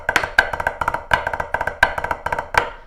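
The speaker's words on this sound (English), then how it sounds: "Now, the float drag variations sound like this." Float flam drag rudiment played with drumsticks on a practice pad: crisp, close taps grouped in repeating clusters of quick strokes with accented flams, steady rhythm and no talking.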